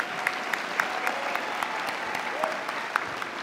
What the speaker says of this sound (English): how about another round of applause for Dr. Judith James?